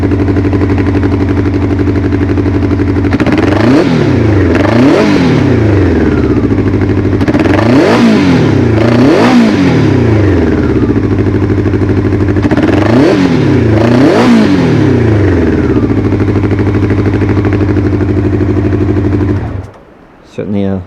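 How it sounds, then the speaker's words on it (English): A Honda CB700SC Nighthawk motorcycle engine idles loudly up close, then revs sharply several times in quick bursts, each rise falling back to a steady rumble before shutting off. "let's go ahead and fire it up, and you can hear the sound and throttle response today."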